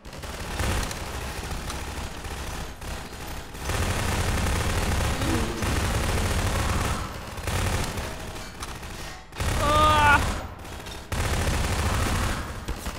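Gunfire in Garry's Mod on a horror map, with sustained automatic bursts and heavy fusillades filling most of the stretch, broken by short pauses and a brief tonal whine.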